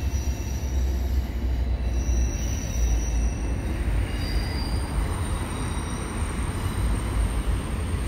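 A CN eastbound mixed freight train with double-stack cars passes on the far track, a continuous loud rumble of wheels on rails with faint squealing throughout.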